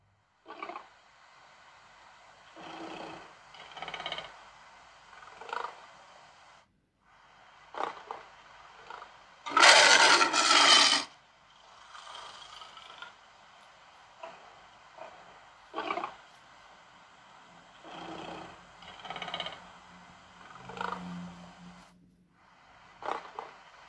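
A lion (Panthera leo) roars in a series of deep, rumbling calls spread across about twenty seconds, with one very loud burst in the middle and shorter grunting roars around it.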